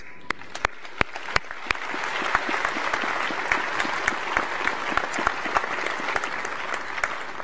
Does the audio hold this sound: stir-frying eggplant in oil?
no